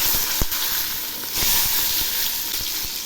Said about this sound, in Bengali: প্রথমে আমি বেগুনগুলো ভেজে নিচ্ছি।